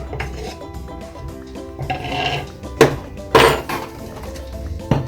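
Salt, ginger and garlic mixed into gram flour in a bowl. A utensil scrapes and rubs steadily, with a few sharper knocks against the bowl's side.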